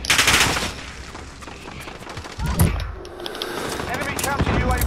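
Rapid bursts of automatic gunfire in the video game Call of Duty: Modern Warfare, loud and close, with pauses between bursts and game sound effects around them.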